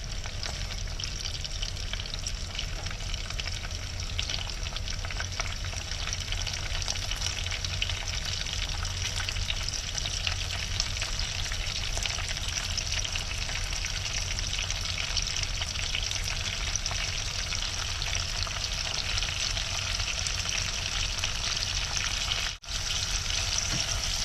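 Green onions and jalapenos fry in a pan with beef sausage and pork bacon, giving a continuous, even sizzle that holds steady for over twenty seconds with no talking.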